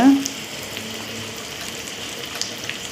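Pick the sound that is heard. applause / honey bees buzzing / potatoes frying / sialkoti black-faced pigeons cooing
potatoes frying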